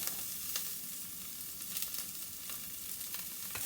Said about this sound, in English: Continue frying until the onions turn translucent and slightly brown.